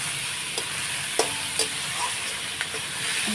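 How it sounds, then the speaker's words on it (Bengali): Salted onions fry in a pan until reddish-brown for a Bengali potato curry, a dense, even sizzle close by. A few sharp spatula taps and scrapes break through, and no one speaks. "লাল লাল করে ভেজে নেব এই দেখো পেঁয়াজটা লাল লাল হয়ে গেছে"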